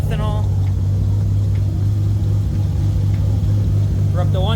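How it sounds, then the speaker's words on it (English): A warming Nissan 300ZX with a huge-turbo 2JZ engine idles loud and steady with a deep, uneven chop in its rumble; brief voices and squeaks rise faintly over it at start and end. "As she warms up, the chop gets more pronounced."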